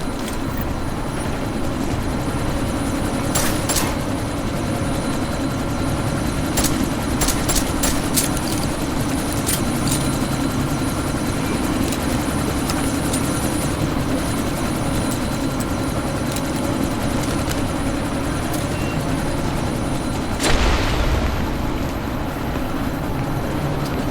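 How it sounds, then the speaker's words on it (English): A helicopter in the video game Deus Ex: Mankind Divided runs steadily with a loud, continuous rotor and engine drone, pulsing blade chop and a brief surge near the end as it lifts off. "That chopper's about to take off!"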